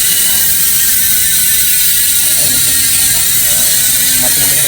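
A rapid, continuous metallic ratchet buzz from a freewheeling Speed 1 Soldier Evo bicycle hub, bright and close, with faint voices in the background.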